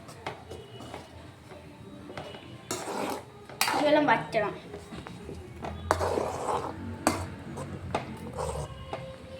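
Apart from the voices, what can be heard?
stirring noodles in a pan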